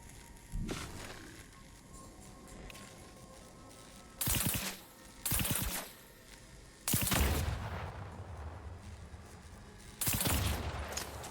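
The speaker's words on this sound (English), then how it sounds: "You know, you can probably track our progress just by the explosions." Bursts of explosions from the video game The Outer Worlds 2, arriving as several loud, broadband blasts with rumbling tails, spaced a second or two apart over a low background.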